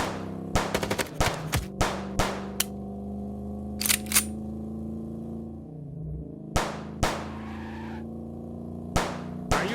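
Gunfire in the Chicken Police video game during a car chase shootout: several sharp, loud shots ring out in scattered bursts over a steady engine hum, with one short skidding sweep partway through.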